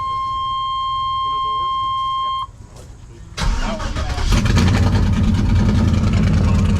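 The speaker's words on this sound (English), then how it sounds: "That exhaust sounds good." Engine of a rust-bottomed Chevrolet K10 pickup turns over and catches, then idles loud and close with a rough, throaty exhaust rumble filling the rest of the clip, after a steady tone at the start.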